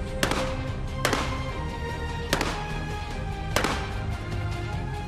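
A counter-terror special unit firing rifles from the prone position, four sharp, loud shots at intervals of roughly a second, each followed by a short echoing decay over a steady background hum.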